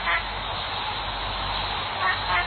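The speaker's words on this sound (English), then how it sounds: "A duck." A duck quacking in a video game quiz, honking, nasal calls that cluster at the start and again near the end over a dense, muffled, low-fidelity background, with a voice talking throughout.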